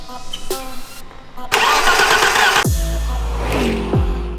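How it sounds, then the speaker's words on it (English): A 31-year-old BMW E30 engine cranks with a few short starter bursts, then catches and roars loudly before settling into a steady idle, close by with no talking. "we're gonna see if the car turns on"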